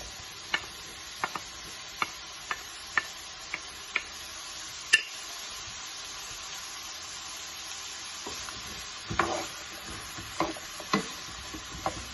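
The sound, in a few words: stir-frying bell pepper and onion in a pan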